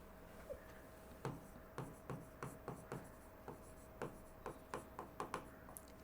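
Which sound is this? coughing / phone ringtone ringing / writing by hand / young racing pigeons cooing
writing by hand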